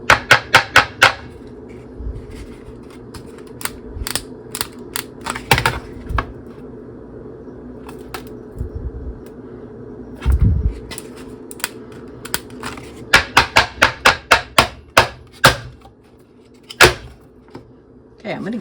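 Plastic ice cube tray of frozen olive oil and basil cubes being twisted, giving bursts of sharp cracking and popping clicks in rapid clusters, with quieter creaks and handling noise between them.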